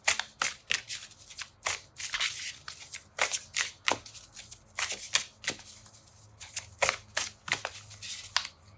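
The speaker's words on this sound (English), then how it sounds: "so let's keep shuffling." A deck of Hanafuda cards is shuffled by hand in quick, repeated riffling bursts, close and crisp, with brief pauses between the bursts.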